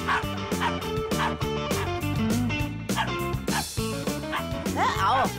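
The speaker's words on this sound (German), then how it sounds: "Hör auf, das reicht jetzt mit dem Bellen." Cartoon dog barking and yipping in a children's animated episode, repeated bright yaps over busy music and a talking voice throughout.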